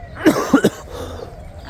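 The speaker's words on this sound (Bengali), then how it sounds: "দিনাজপুরে এসে প্রচুর কাশতাছি।" A person coughs on a cold, foggy morning in Dinajpur, giving three short, close coughs in quick succession, then quiet outdoor background.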